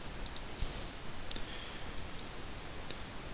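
A computer mouse gives a few faint, sharp clicks against a quiet steady background hiss, scattered irregularly and close by.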